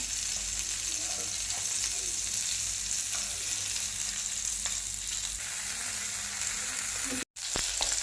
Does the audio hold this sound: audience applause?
no